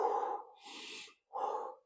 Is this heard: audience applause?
no